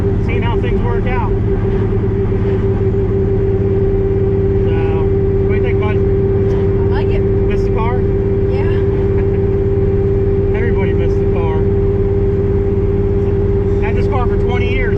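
A 1000 RWHP drag car's engine drones at a steady low cruise, a loud constant hum and rumble beneath someone talking inside the car throughout.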